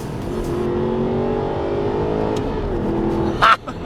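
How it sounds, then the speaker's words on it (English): A 4.3 litre V8 sports car revs hard with a sustained engine note, then a sharp, abrupt gear change cuts in near the end with a brief loud burst, heard from close up. "That's a whiplash gear change."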